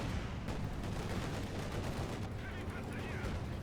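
Dense World War II battle gunfire in the Company of Heroes 2 video game, sustained rattling machine-gun bursts and shots layered into a constant loud roar with no pauses.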